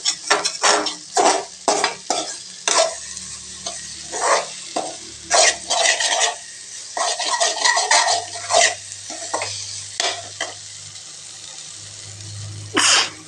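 Masala and goat meat sauté in a pan for a boneless goat head fry, with repeated loud sizzling bursts and spoon scraping and stirring in an irregular rhythm, close up and without talk.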